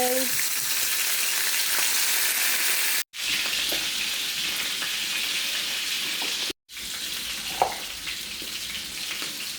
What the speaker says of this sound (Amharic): የዶሮ እግር አለ እሱ እዚህ ጋር የጋለ ዘይት አለ።